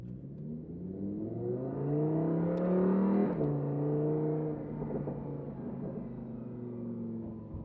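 A Lamborghini Urus Performante engine pulls hard while driving, its strong tone rising in pitch as it revs and then settling into a steady cruising drone, close and continuous with no talking.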